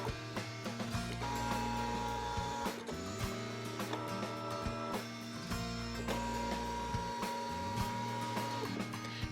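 Brother ScanNCut machine drawing with a pen tool whirs and buzzes in repeated motor bursts with clicks between strokes, steady and close, no talking.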